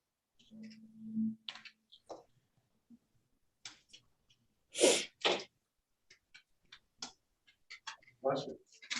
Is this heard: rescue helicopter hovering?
no